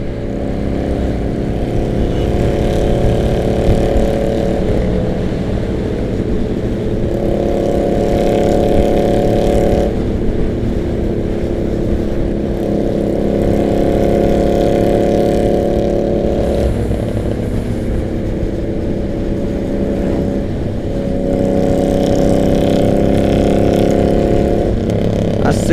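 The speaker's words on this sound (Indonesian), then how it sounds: "Kita nikmati suara motor di depan ini." A Harley motorcycle engine runs nearby, a deep steady rumble that rises and falls in long swells as it revs, loud and continuous with no talking over it.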